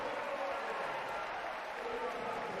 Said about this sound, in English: Micheletto will definitely get his fair and well-due round of applause from the crowd for that start